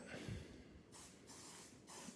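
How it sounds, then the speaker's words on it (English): Three short bursts of spray from a bottle, each a soft hiss separated by brief pauses, close by. "spray down your chest"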